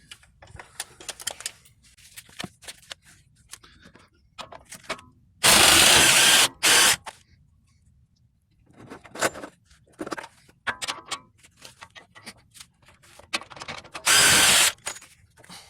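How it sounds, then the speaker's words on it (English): Two loud bursts from a power tool, likely an impact gun, spin off the lower shock bolt with a T60 socket on a 2008 Jaguar XJ8 front shock. Scattered clanks and handling noises sound between the bursts. "take off our lower shock bolt. That is going to be a T60."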